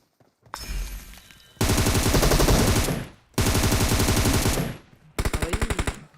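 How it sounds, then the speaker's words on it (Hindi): Gunfire in PUBG Mobile: bursts of rapid automatic fire crackle loud and close in three long strings with short gaps between them, ending in a quicker burst. "रोजॉक के अंदर गोलियां चलती है"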